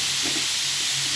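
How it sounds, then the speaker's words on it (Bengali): Boiled bottle gourd peel frying in a wok gives a soft, steady sizzle with a fine hiss, brief and fairly quiet, with no voices. "কড়াইতে ভেজে নিচ্ছি,"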